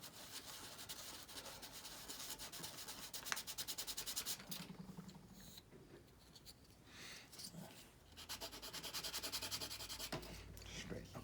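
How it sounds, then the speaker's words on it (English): Small piece of sandpaper rubbed against a model coal truck casting on a workbench, close rasping strokes in repeated back-and-forth bursts with brief pauses between passes. "Next, we'll take some sandpaper,"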